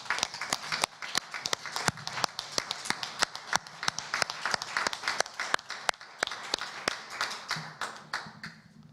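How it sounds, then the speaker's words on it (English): A graduation audience at a university commencement ceremony claps through a standing ovation, dense rapid handclaps sustained steadily with a few sharp louder claps standing out, fading slightly toward the end. "please join me in a standing ovation in honor of our graduates."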